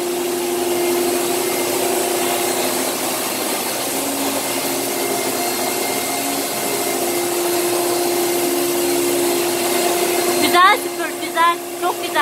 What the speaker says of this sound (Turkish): Bak nasıl süpürüyoruz.